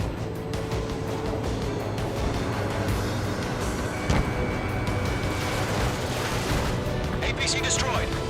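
An APC is destroyed in the combat flight game Ace Combat 7 amid steady rumbling gunfire and artillery booms, with a sharp blast near the middle and radio voices talking over the din.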